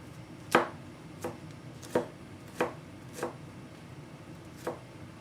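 A knife chops food into thin matchsticks on a cutting board, six or seven crisp, separate strikes spaced roughly a second apart, close up with no talking.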